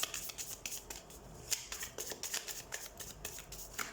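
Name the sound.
shuffling tarot cards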